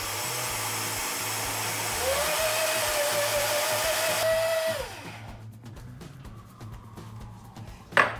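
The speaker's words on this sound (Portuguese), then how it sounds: "Então vou bater mais 1 minuto como prometido." A countertop blender, a Ninja or Vitamix, runs close and steady with a loud whirring motor, then spins down and stops, leaving faint background noise.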